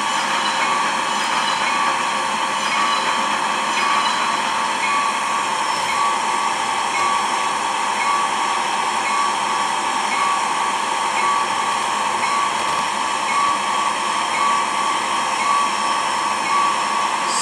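A long, steady rumbling roar of a passing freight train, constant and loud throughout, with a high metallic whine over it and no voices.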